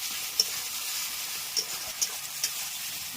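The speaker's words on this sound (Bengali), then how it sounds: "মাংসটা একটু ভালো করে কষে নিই।" Meat stir-fried in a pan at home, a continuous soft sizzle broken by four light spatula taps against the pan; no talking.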